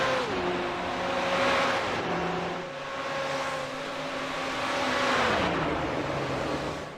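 Race cars, LMP2 prototypes and GTE machines, lapping Imola in iRacing, with several engines droning and shifting pitch as they pass near, a steady loud motor roar throughout.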